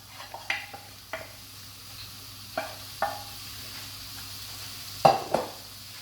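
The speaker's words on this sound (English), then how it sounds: "I'm going to turn up the heat on these mushrooms. And I'm going to go straight in with the cold rice." Cold rice tipped into a hot pan of sizzling mushrooms: a low steady sizzle broken by several sharp clinks and scrapes of utensil against pan, the loudest near the end.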